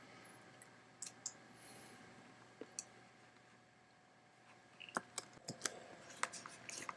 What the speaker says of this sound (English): When I click on the projects link,